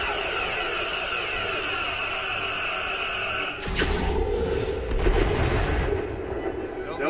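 Starship weapons discharge in the game Star Trek Resurgence, a sudden burst of energetic firing breaking over a steady humming bridge ambience, followed by rumbling impacts, with a voice present.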